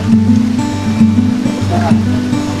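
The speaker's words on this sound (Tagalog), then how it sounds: "Pagandang ilog dito." A river at Sitio Imus in Alfonso, Cavite, flowing with a steady broadband rush, close and continuous, under a voice talking throughout.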